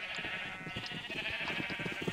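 Sheep in the Minecraft video game give several short, buzzy bleats over a steady electronic hum, with no one talking over them.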